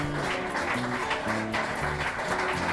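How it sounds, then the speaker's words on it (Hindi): A crowd claps and applauds at a homemade wooden toy bike race, a steady wash of hand claps under a melodic music track that plays throughout. "वो देखकर लोग तालियां बजाने लगे।"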